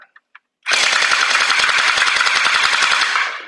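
YOJOLOIN M4 Wasp gel ball blaster fed from a drum mag, firing rapidly in full auto: a few single clicks, then a loud, close, continuous stream of fast shots lasting nearly three seconds.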